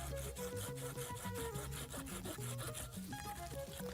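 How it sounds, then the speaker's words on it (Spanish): A handsaw cuts through a large tree branch, giving steady back-and-forth rasping strokes at a quick, even rhythm, somewhat distant and mixed with a constant tonal background that sounds like music. "corte de serrucho."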